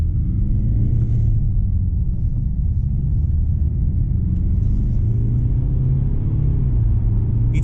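A Mercedes E 220d AMG Line diesel car pulls forward with a loud, continuous low engine rumble and steady road noise, heard from inside with no talking.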